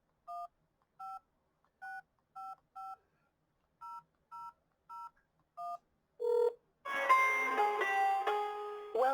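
A telephone keypad dials into a WebEx meeting: about ten crisp, evenly spaced touch-tones, close and clear in a quiet room, followed by a louder burst of connecting audio.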